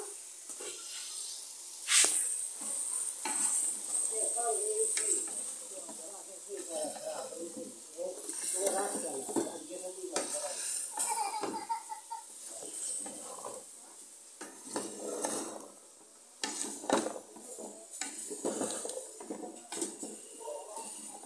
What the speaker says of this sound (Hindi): अभी मैं सब्जी ऐड कर रही हूँ।